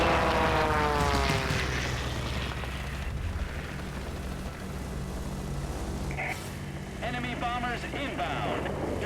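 A Spitfire propeller fighter in a video game drones loudly and continuously, its engine roar rising and falling through a dogfight with bursts of gunfire and explosion-like rumbles mixed in, heavy throughout.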